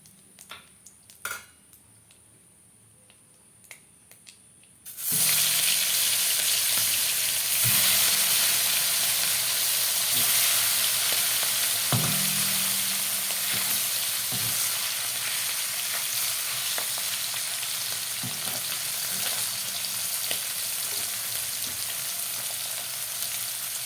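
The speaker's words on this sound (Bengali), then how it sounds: "এরকম হালকা হাতে সব মাছগুলো আমি ভেজে নিলাম, হালকা করে করেই ভাজলাম," Fish fry in hot oil in a pan: after a few quiet seconds, a loud, continuous sizzle breaks out and holds, with occasional faint clinks of a utensil against the pan.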